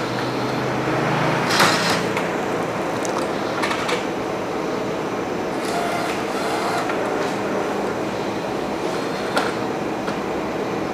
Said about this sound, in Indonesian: Oke, nah printer sudah nyala.